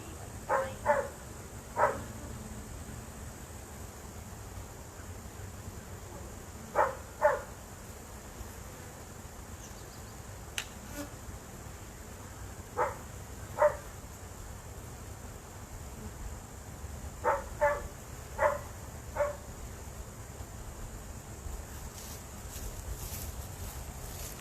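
A dog near Florida beehives barks in short clustered bursts of two or three, spread across a long stretch, set against a steady buzz of bees and insects outdoors.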